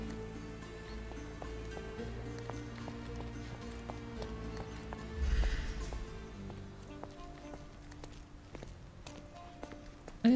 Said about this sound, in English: That's a horse, not a donkey